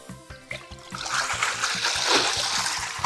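Water bursts from an opened model dam in a children's museum exhibit, a rising splashing gush that follows a few rhythmic clicks and grows louder as it pours out.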